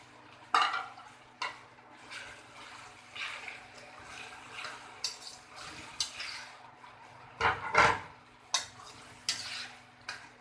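Chopped tomatoes frying with onions in a pan for a home-style chicken angara, a steady soft sizzle broken by sharp clinks and scrapes of a spoon stirring against the pan, close by.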